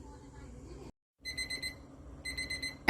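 A cooking thermometer alarm beeps in a kitchen as milk heated for ricotta cheese reaches 195 degrees: rapid, high electronic beep bursts in groups, broken by a short silence, fairly close and clear over a low background.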